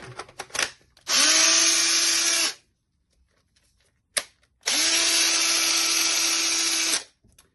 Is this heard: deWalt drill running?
yes